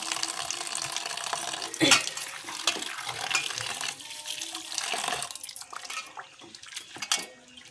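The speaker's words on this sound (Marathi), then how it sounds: "भाजी घेऊया धुवून मस्तपैकी" Organic red amaranth leaves are washed in water, with close splashing, swishing and dripping in irregular bursts, fairly faint and without talk.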